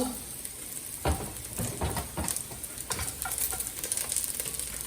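Garlic and onion sautéing in a hot pan, a steady sizzle with scattered stirring scrapes and clicks throughout, close and fairly loud.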